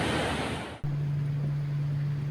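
High waves surge beside a stranded coal-carrying barge while an east wind drives a high tide: a loud, broad wash of surf that cuts off abruptly after under a second, giving way to a steady low hum.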